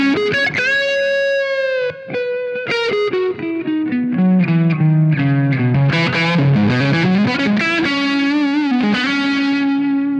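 Electric guitar through a Taurus SH7 Apogee floor amp with a fuzzy, distorted tone, playing a continuous melodic line of sustained notes and quick runs, loud and alone with no talk.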